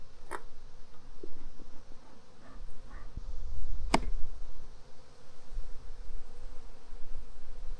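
Honeybees buzz in a steady moderate drone around an open hive while a super is being added, with a few scattered knocks and one sharp click as the inner cover is handled.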